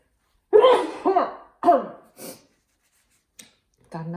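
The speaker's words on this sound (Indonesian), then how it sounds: "Aduh, mau bersin nih." A person sneezes in a cold room, starting with a sharp burst followed by a few short, close explosive bursts and breaths, then a brief pause and a voiced sound at the end.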